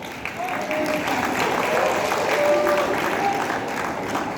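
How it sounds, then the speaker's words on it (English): Audience applause at a promotional event, a steady murmur of clapping from a crowd with faint tonal cheers or voices mixed in, holding at a moderate level throughout. "That deserves a round of applause"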